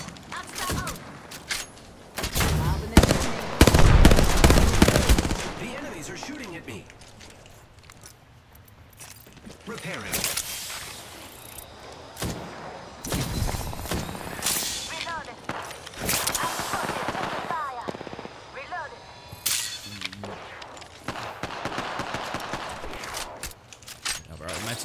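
Gunfire from a gun in the video game Apex Legends crackles in rapid automatic bursts, heaviest early and returning in later volleys, mixed with game effects, clinks and a player talking.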